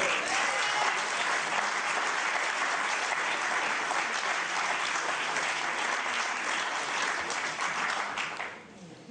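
Sustained, loud audience applause at a French Socialist Party event designating its candidate for President of the Senate, a dense steady clatter of many hands that thins and fades near the end.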